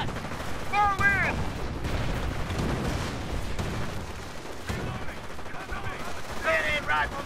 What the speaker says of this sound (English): They're firing on us!